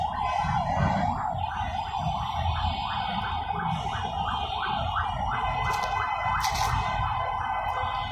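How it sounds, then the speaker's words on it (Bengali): An ambulance siren wails in repeating rising and falling sweeps over a low rumble of city traffic, moderately distant and continuous, with a couple of brief horn-like bursts near the end. "তারপর অ্যাম্বুলেন্সের সাইরেন শুনতে পাচ্ছেন"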